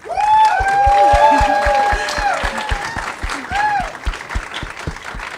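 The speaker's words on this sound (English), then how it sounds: "So please give a warm round of applause." A room full of people at a game developer commentary session claps steadily, with a few whoops and high cheers rising over the applause before it settles.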